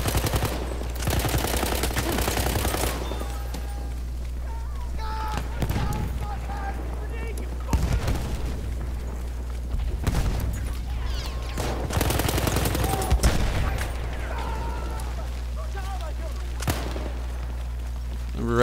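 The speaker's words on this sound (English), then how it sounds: "That's a lot of explosions." Dense video-game gunfire with machine-gun bursts and heavy explosions during a flag-capture match, loud and continuous with booming blasts throughout, while players talk over the action.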